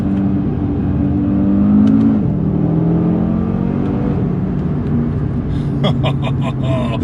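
A 2019 Audi RS3 saloon pulls away hard in first gear, its engine note climbing in a steady, loud, close rising drone that holds through the clip, with a voice talking over it.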